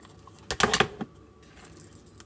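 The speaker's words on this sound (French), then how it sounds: "je viens coller ma clochette" A small bell jingles in a quick cluster of bright metallic rings as it is glued onto a handmade Christmas dreamcatcher, close and fairly loud, then fades to a few faint tinkles.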